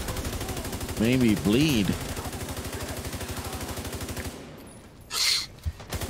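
Rapid automatic gunfire from The Division 2 video game rattles steadily through the whole stretch, loud and continuous, with brief bursts of other game effects and a voice talking over it.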